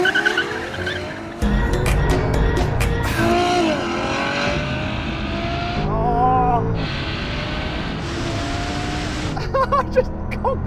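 Sports car launching on a drag run with traction control off, engine roaring loud and close through rising gear pulls, with tire squeal and several shifts as it accelerates away.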